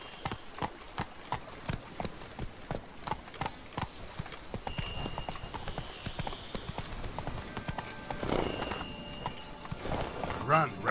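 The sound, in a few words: horse Roach galloping in video game The Witcher 3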